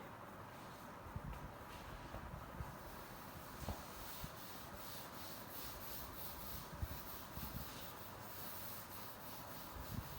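A board being rubbed clean in a physics classroom, a faint continuous dry scrubbing hiss with small irregular knocks, steady throughout and heard alone.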